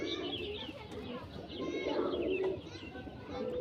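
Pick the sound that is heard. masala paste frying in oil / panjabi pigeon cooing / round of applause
panjabi pigeon cooing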